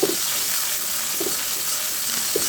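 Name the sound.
onion-chili paste and spices frying and being stirred in oil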